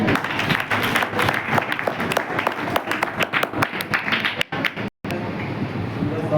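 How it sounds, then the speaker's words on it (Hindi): A congregation claps loudly and energetically, a dense burst of hands that fills most of the moment before breaking off abruptly and leaving a quiet room. "सभी अपने लिए एक बार जोरदार ताली बजाएं।"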